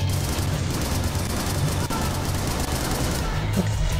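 Sustained video game machine gun fire in a gory shooter roars continuously as a dense, loud barrage with deep booms underneath and no pauses.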